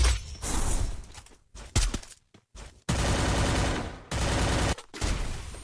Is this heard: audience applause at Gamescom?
no